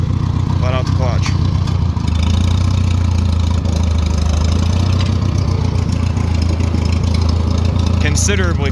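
Engine of a 1940 Farmall H tractor with an M&W 9-speed, running steadily in first gear with throttle up, a loud close low chugging drone throughout, with someone talking over it.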